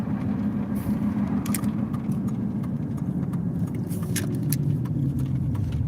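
A car drives along a road in Peru, New Mexico, with a steady low engine and tire rumble from inside the cabin and occasional small rattles and clicks over it.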